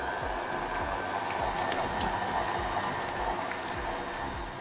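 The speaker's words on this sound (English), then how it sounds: "So pop your mixer on." An electric mixer beating butter in a bowl for raw cookie dough, a continuous fairly quiet whirring hum running steadily throughout, with no talk.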